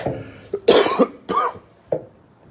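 Several harsh coughs burst out close by, three main hacks with short pauses between them, then a smaller throat-clearing cough at the end.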